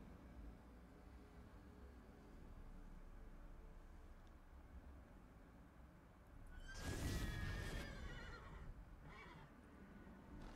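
A horse-shaped spectral umbra in The Witcher 3: Blood and Wine gives a single loud, breathy neigh partway through, rising out of a low ambient game background and fading afterward.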